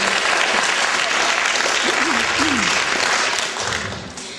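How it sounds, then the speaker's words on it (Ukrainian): Loud audience applause at a charity fundraising concert in a small town, dense continuous clapping that thins toward the end, with a few voices faintly audible under it. "Аплодисменти."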